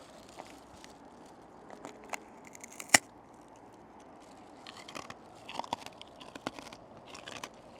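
Crunchy sugary senbei rice cracker bitten and chewed outdoors in Tokyo, with one sharp loud crack standing out early, then scattered quieter crunches against a steady street background.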